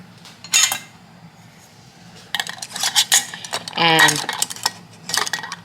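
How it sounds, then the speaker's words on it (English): Metal canning lids lifted from hot canner water and a screw ring fitted onto a glass jar of peach BBQ sauce give sharp clinks and scraping metal, in bursts close by, with a brief word spoken. "You want to grab a lid. I have them in some hot boiling water from the canner. And now you want to add on your ring."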